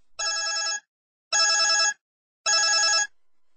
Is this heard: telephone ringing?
yes